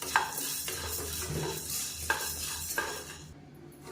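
Black urad dal and red rice are roasted and stirred in a pan, with a spoon scraping and clinking against the metal over a faint dry sizzle, close and moderately quiet with a few sharper knocks.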